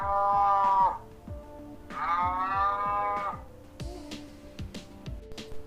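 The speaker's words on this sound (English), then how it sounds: "The sound which cow makes, we call it moo." A cow lets out two long, loud, drawn-out moos, each about a second, with a rhythmic clicking, tapping background between them.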